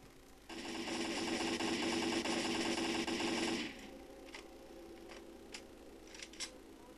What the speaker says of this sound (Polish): Jeszcze tylko wam pokażę, jak strzela AKM 74-2